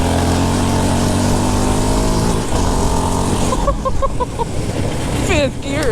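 A 2022 Yamaha Raptor 700R SE ATV engine roars loud and close outdoors, holding a strong revving tone before shifting through gears, with wind and terrain noise around it.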